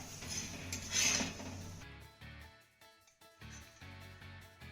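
A roasted poli flatbread, made from dough mixed with ukad, is lifted off a hot pan, giving quiet metallic clinks and scrapes of utensil against pan in a calm kitchen.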